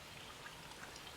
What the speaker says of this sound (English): Now the rain is being diverted into this tank.